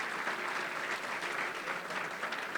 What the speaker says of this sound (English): Round of applause for our student athletes.